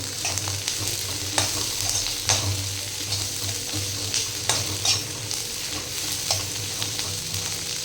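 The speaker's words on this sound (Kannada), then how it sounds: "ಈ ಮೆಣಸಿನ್ಕಾಯಿ ಫ್ರೈ ಆಗ್ಬೇಕು ನೋಡ್ರಿ ಚೆಂದಾಗಿ ಎಣ್ಣೆಯಾಗ" Green chillies fry in hot oil in a pan, giving a constant close sizzle. Occasional scraping stirs and light clinks break in at irregular moments, with no voices.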